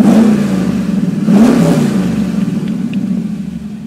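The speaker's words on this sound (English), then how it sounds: "Let's go ahead and rev this up. I know you guys want to hear it." A modified car engine with exhaust cutouts revs up loudly nearby, a deep rumbling idle rising in a surge around the middle before settling back into a throbbing burble, with no talking.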